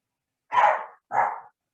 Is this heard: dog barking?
yes